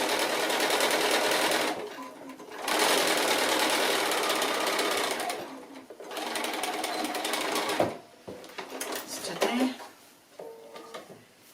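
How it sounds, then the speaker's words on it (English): A sewing machine stitches the shoulder seam of a fabric Santa in loud, close bursts of rapid whirring, broken by short pauses and fabric handling, with a voice talking quietly between the runs. "So the other side gets stitched exactly the same up to that same point here and all the way in there"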